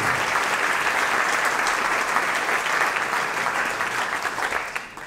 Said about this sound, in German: Auch einen Applaus für unsere Kollegin.